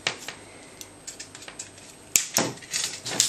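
Sharp cutter snips and small metallic clicks bite through a hair dryer's heating element, several crisp cuts close to the microphone, the last few louder and more forceful.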